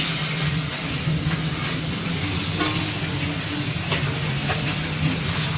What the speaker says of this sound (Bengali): দেখো মাছটা ভাজা করছি।